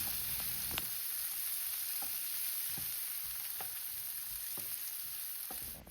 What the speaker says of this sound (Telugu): కట్ చేసి ఉంచుకున్న ఉల్లిపాయలు, టమాటా ముక్కలు, కరివేపాకు వేసి 1 నిమిషం పాటు ఫ్రై చేసుకోవాలి